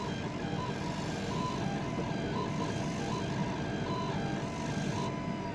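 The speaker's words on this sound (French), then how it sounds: "avec l'air assist, on a un petit bruit rigolo" A K40 laser cutter running with air assist gives off a steady, fairly faint mechanical hum and airy hiss, with a constant tone and faint periodic beeping accents throughout.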